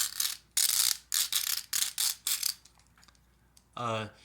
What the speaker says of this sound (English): He does have a thigh swivel, ratchet knee bend, which sounds amazing